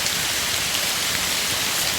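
Steady rain falls in a dense, even hiss of drops on surfaces, constant and close, with no voices.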